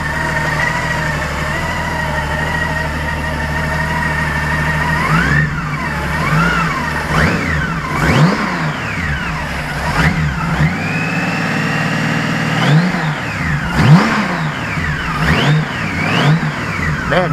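A custom trike's engine runs steadily with a low idle, then revs up and down repeatedly in rising and falling sweeps, loud and close with no talking.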